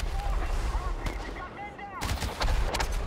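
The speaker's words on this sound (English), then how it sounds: "It's a grenade rifle." Grenade rifle firing in Chernobylite, with several sharp shots and bursts spread across a few seconds, loud and close, mixed with whistling projectile sounds and some other game noise.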